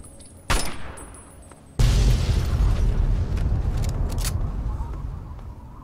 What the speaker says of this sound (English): Big explosions and gunfire, the likes of which you shall not see